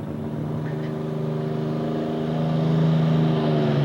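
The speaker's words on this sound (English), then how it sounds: "John Meeks. 4250 JD. Alcohol-powered tractor." A John Deere 4250 pulling tractor with an alcohol-powered engine at a 1995 tractor pull in Central City, Kentucky, a loud steady droning roar that builds slightly in pitch and volume.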